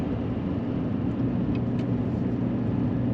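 A 2021 Duramax pickup truck tows uphill at highway speed, its engine giving a steady, low, droning hum under constant road and wind noise.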